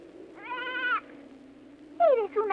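A cartoon goat bleats twice, a long wavering bleat followed after a pause by a shorter falling one, close and clear over a faint background hum, in a Heidi animated scene set in the Alps.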